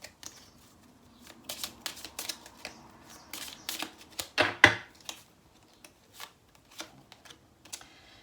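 Tarot cards shuffled and drawn by hand, a run of crisp papery riffles and flicks in uneven bursts with short pauses, close and fairly quiet, no talking.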